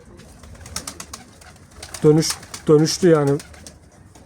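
An Arab Çapar Kelebek pigeon coos close by in three throaty, rolling calls, with someone speaking Turkish softly underneath and before them.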